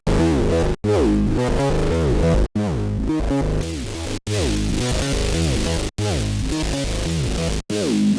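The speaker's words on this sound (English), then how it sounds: "Let's add a little bit of distortion to this." A distorted synth phrase repeats in loud, gritty bursts of sliding notes, each cycle cut off by a sharp gap before it starts again, with no talking over it.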